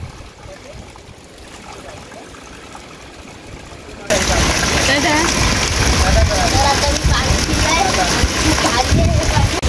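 Water trickles and splashes from a natural rock filter, a faint drip at first, then a loud, steady splattering flow from about four seconds on, close by and continuous.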